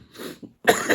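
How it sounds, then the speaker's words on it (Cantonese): A small cough in a church lesson, a couple of soft throat sounds followed by one sharper, louder cough burst close to the listener. "跟住有小咳"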